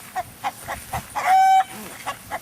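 Chickens clucking in a short run of evenly spaced calls, with one longer drawn-out squawk in the middle, fairly close and clear with no talking.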